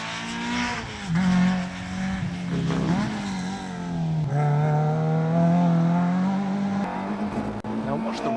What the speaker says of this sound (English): The amazing thing is that this car still seems to sound like a Mini.